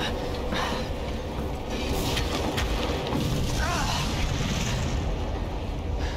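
An explosion in the video game Resident Evil 2 Remake rumbles loudly with crashing, debris-like bursts and a roaring low-end wash that runs the full six seconds, with dense noisy texture throughout.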